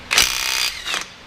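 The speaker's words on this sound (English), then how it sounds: "This little Azito rattle gun. The last 2 bolts, go for it, Tyson." Compact Azito rattle gun impact wrench on the cylinder head bolts of a Ford Fairmont XC GXL, two sharp close bursts of loud hammering rattle, the first longer, with no talk.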